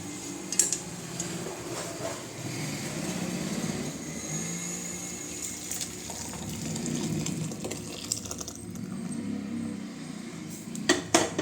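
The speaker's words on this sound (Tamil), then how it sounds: "ரசம் கொதிச்சுட்டுங்க, எடுத்து ஊற்றிக்கலாம்." Boiled onion rasam ladled out and poured, with clattering utensil knocks against the pot over a steady background rumble, close by and without speech.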